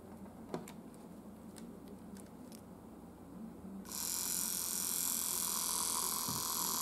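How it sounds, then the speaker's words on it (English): A Maxon DC motor hooked to a power supply with alligator clips, sparking inside, starts with a bright, steady whirring hiss that abruptly replaces a low background hum and holds loud and close to the end. "So we're going to connect it to this motor and we'll see if it works."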